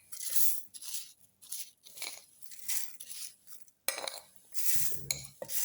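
Dry rice flakes and sugar pour into a grinder jar in several short rattling, rustling bursts, with light scraping and tapping of a spoon against the jar, quiet and close.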